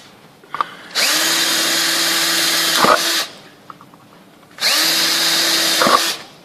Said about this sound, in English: I'm going to drill another hole in the centre of that